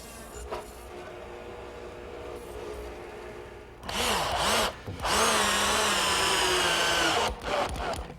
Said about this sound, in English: since I still have the radial arm set up with the stacked dado head cutter